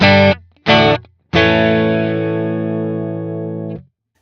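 An electric guitar through a clean Dumble amp profile plays two short notes, then a chord that rings out for a couple of seconds before stopping, with no talking.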